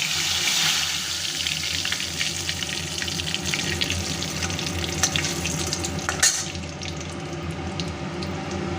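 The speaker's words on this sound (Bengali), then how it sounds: "ফোড়ন হিসেবে আমি তেজপাতাটাও কিন্তু দিয়ে দেবো" Bay leaf and black cumin (nigella) seeds tempering in hot oil for a tomato-cauliflower curry, a steady dense sizzle with faint crackles and one brief louder clink near the end, close and continuous with no talk.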